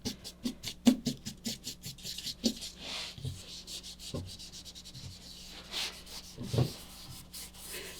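Rubbing a drawing on torn paper, a faint, close scratchy rubbing and sanding sound in repeated short strokes with an uneven rhythm and a few slightly louder scuffs.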